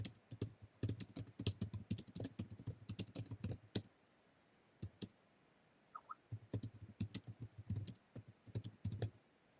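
Typing on a computer keyboard comes in two quick bursts of close, crisp key clicks separated by a near-silent pause with a few isolated taps.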